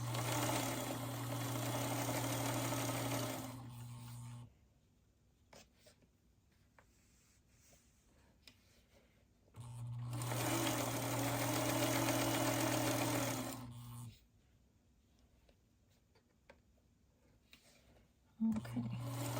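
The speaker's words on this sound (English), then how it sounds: "I'm going to sew a background to it using the 1/4-inch seam allowance right here." A sewing machine runs in two steady bursts stitching quilt fabric with a 1/4-inch seam allowance, a close, whirring hum that stops and restarts, with quiet handling noise in the pauses.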